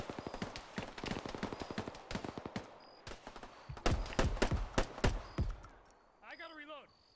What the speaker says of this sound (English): in addition to the bang, there's a little thunk thunk of it hitting my my ballistic vest